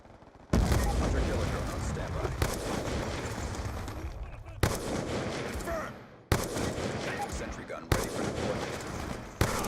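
Sniper gunfire in the shooter game Black Ops 2: loud, sharp shot onsets repeat every couple of seconds over a dense, continuous wash of battle noise.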